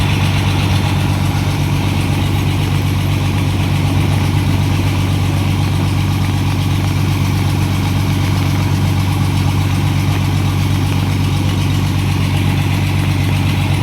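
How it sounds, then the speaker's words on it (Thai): A water pump engine runs at a muddy excavator worksite beside a HIDROMEK HMK 230 LC, a loud, constant droning roar held close and steady throughout without any pause. "เครื่องสูบน้ำเนี่ยแรงมากครับ"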